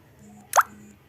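Jowar idli batter ladled into an oiled idli plate lands with a single soft, wet plop, close and brief against a quiet kitchen.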